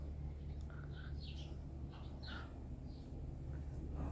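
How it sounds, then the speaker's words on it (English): Birds sing in a small garden outside a restaurant, with several short chirping phrases rising over a constant low hum, moderately near. "Can you hear the birds singing?"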